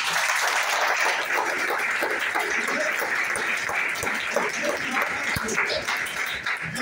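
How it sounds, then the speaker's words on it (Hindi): Loud applause and cheering from a workshop audience, a dense wash of clapping with voices mixed in throughout. "तो आज अपने लिए जोरदार तालियां बजा दो"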